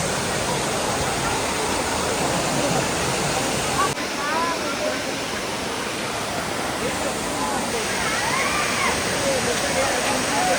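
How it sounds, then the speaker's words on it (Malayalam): Steady rushing roar of a waterfall along a forest road trip in Kollam, loud and continuous throughout, with faint voices briefly audible in the background. "വാട്ടർഫോൾസ്."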